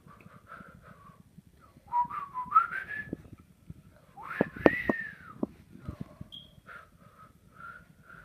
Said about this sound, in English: She's going to go whistle talk.